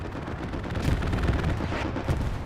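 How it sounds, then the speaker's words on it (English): Grenades and gunfire going off in a Hell Let Loose match, a continuous rumbling barrage of muffled blasts and shots at moderate distance, with no voices over it. "Grenades are going off."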